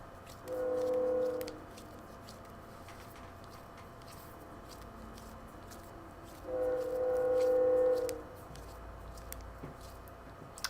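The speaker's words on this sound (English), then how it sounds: "Can you guys hear the train going by?" A train passes in the video game The Outer Worlds, sounding two long horn blasts a few seconds apart over a low, steady rumble of rolling cars, moderately loud with no talking.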